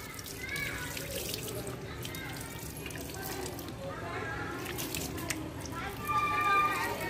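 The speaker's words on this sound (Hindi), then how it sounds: "अब इसको सिंपल आपको जो है पानी से वॉश कर लेना है" Running tap water splashes steadily over a PCB board being rinsed, a close, continuous gush and trickle with a voice faintly underneath.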